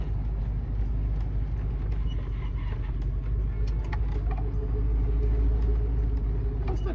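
A 1969 Camaro with bad tires, left sitting for 18 years, drives along in second gear, its engine giving a steady, continuous low rumble close by with no talking.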